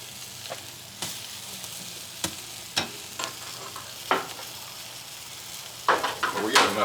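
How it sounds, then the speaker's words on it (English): A tomahawk steak sizzling over a live wood fire in a wood-fired oven, with sharp crackles and pops scattered throughout, a steady hiss underneath, fairly close and moderately quiet. "hear that sizzle? That's what I like hearing on a nice sized piece of meat like that."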